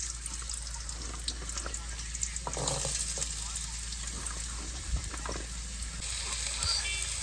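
Potatoes, washed and cut, dropped into hot oil in a wok, giving a steady close sizzle and crackle of frying that runs throughout, with brief stirring or clatter noises over it.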